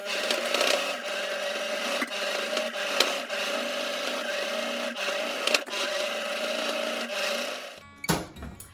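A sewing machine stitching in the ditch along the seams of a fabric fidget activity quilt, running in a steady close whirring rattle for several seconds before stopping with a few clunks.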